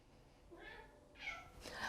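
An orange male shelter cat meows three times in quick succession, soft and close, each call rising and falling, with the last one the loudest.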